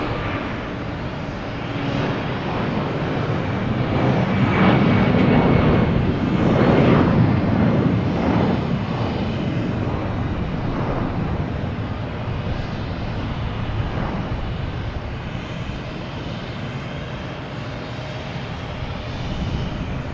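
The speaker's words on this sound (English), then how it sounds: "There's a Delta 757 heading to" A Delta Boeing 757 jet at Boston Logan Airport, a steady broadband engine roar that swells to a peak midway and then slowly fades, heard alone without talk.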